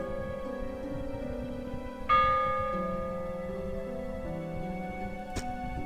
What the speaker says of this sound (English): That bell ring.